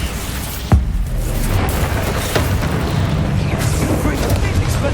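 A Bombarda explosion spell goes off in Hogwarts Legacy, a sharp booming blast followed by a dense, rumbling wash of game effects and further thuds that stays loud throughout.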